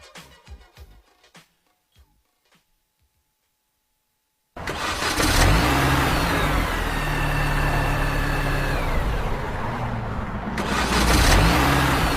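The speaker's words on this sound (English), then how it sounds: "Man, the car broke down." A car engine cranks and roars up after a few faint knocks and near silence, then runs rough and loud for several seconds with wavering pitch before a final surge, no talk.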